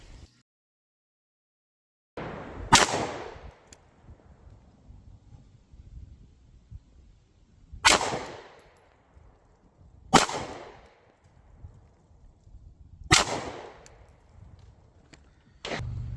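Four sharp pistol shots ring out outdoors at a 20-yard target while a pistol-mounted RMR red dot sight is zeroed, spaced several seconds apart with light wind noise in between.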